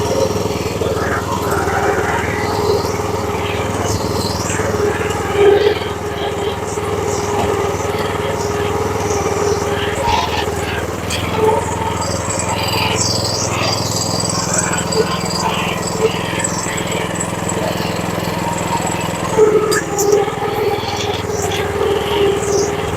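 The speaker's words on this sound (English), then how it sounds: "So I'll be first using the rotary mower to go over those taller blades just to bring them down to a lower height." A rotary lawn mower drones steadily and close by, cutting tall Bermuda grass with a continuous engine hum.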